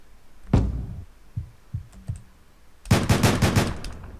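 Pistol gunfire in the video game Deadbolt: a few sharp single shots in the first seconds, then a rapid close burst of repeated loud bangs near the end, with no talk.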